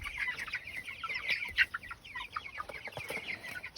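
Baby Cornish Cross chicks cheep steadily in a dense, overlapping chorus of high, quick peeps, close and fairly busy throughout, with no talking.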